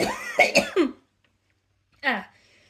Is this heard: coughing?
yes